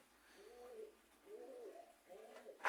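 Pigeons cooing, three soft, low, rolling coos close by at a fairly faint level, ending in a brief sharper noise.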